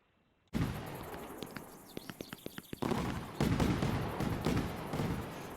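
Fireworks going off in the PC game Fireworks Mania: a run of sharp, evenly spaced pops and bangs that build into a dense, continuous crackling barrage, fairly close and loud, with no talking.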